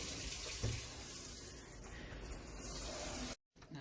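Water runs steadily from a kitchen faucet into a sink while a spoon is rinsed after baking chocolate chip cookies, a continuous close hiss that cuts out briefly near the end.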